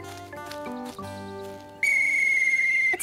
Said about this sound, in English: then you can play with your whistle outside